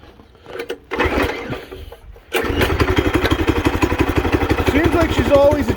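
A stock MM212 minibike engine is pulled over, catches after a brief sputter and settles into a fast, steady putter, loud and close.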